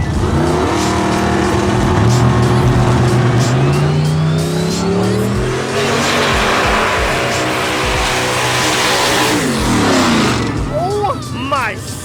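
A truck's engine revs very loudly nearby, its pitch climbing and falling in long sweeping surges with harsh roaring layers, while people talk over it toward the end.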